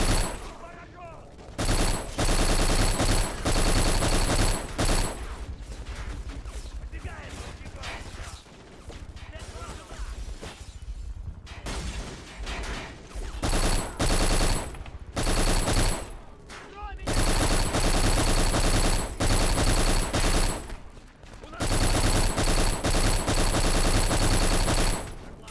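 Gunfire in the first-person shooter Black rattles in long, loud automatic bursts with heavy impacts, broken by brief pauses, dense and close throughout.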